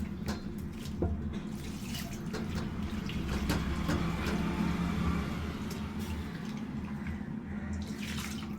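Warm water splashing and pouring steadily over freshly made homemade paneer to rinse it, a continuous close trickle with a few small splashes and drips, no talking.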